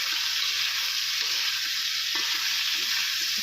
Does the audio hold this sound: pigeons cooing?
no